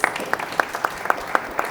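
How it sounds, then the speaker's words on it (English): A small audience at a talk on machine creativity gives a modest round of applause: sparse, distinct claps at an irregular rhythm over a faint background, moderately loud and close. "Round of applause."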